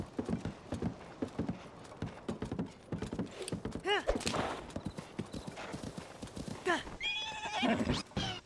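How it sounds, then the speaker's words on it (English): A horse neighs several times while its hooves clip-clop steadily, close and fairly loud, with a person talking over it. "Can you stop, horse? Oh my god. It just doesn't stop."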